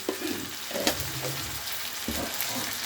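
Cabbage stir-fried with fish head in a pan, a steady loud sizzle broken by a few scraping stirs of the spatula, with no voices.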